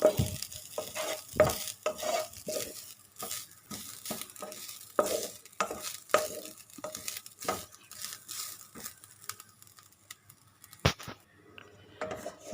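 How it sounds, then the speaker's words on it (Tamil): Grated coconut dry-roasts in a pan for red poha laddu, with a spatula making repeated close scraping and tapping stir strokes over a faint sizzle. "ஒரு கப் அளவுக்கு தேங்காய் துருவல் சேர்த்து அதையும் நம்ம நல்லா வறுத்து எடுத்துக்கலாம்"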